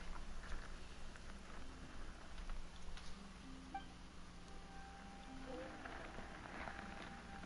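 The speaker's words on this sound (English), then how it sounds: "Why is it raining all of a sudden?" Steady rain falling in the video game Genshin Impact, a continuous dense patter with faint rumbles beneath, fairly quiet and even throughout.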